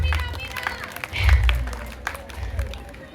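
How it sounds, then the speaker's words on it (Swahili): Applause for a woman at an outdoor gospel meeting, the clapping and crowd noise rising under continuing preaching talk and swelling loudest near the middle. "Pigie makofi yule dada roho yake nyeupe."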